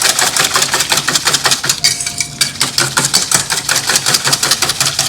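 A whisk beats kuih tepung pelita batter in a bowl with rapid, regular rhythmic clicking and scraping strokes, close and continuous with a brief pause midway.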